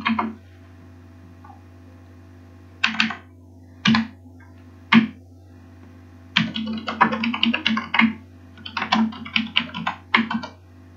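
Keys clack on a computer keyboard as a user ID is typed into a login form, in sparse single presses followed by a denser run of quick taps, close and dry.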